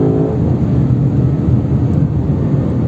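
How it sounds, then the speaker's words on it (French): A Lexus LC 500 with its V8 engine accelerating hard, a loud, steady, deep roar held close throughout with no talking. "Oh, le rupteur, la reprise."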